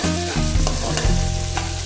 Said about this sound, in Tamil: வெங்காயம் நல்லா பொன்னிறம் வர வரைக்கும் வதக்கிக்கோங்க.